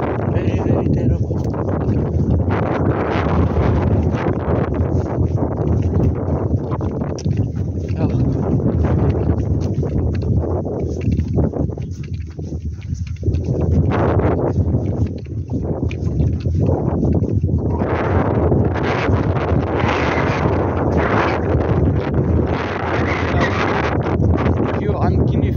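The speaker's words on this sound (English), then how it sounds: "This wind is terrible today." Strong wind roaring across the microphone outdoors on a guinea fowl hunt, a loud continuous buffeting rush that dips briefly mid-way, with someone talking beneath the noise.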